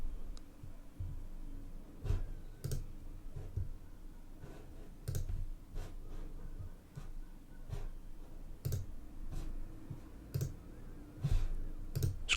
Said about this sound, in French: Je clique sur ouvrir.